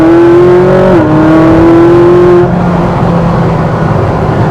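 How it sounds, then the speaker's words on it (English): A Ferrari 458 accelerating onto a freeway, its engine note loud and close, climbing steadily in pitch, dipping briefly at a gear change, then pulling hard again with a continuous roar and no talking. "I'll just do a quick little acceleration here as I get on the freeway"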